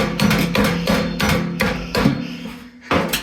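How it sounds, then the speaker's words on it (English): A series of hard, hollow knocks as a hammer handle taps a furnace blower motor shaft, several irregular strikes ringing close and loud with no voices. "So I'm just using the end of the handle of the hammer here."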